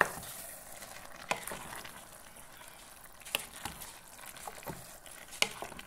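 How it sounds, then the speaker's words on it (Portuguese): Pasta with sausage is stirred in a pot, soft low sizzling and bubbling beneath a few distinct spoon clinks and scrapes spaced a couple of seconds apart. "Agora é só mexer."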